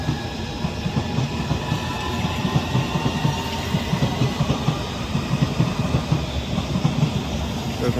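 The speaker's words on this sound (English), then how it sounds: "As a district line service to Wimbledon departs." A London Underground District line train departs Barking station, a steady rolling rumble with rhythmic wheel clatter at moderate loudness, no voices over it.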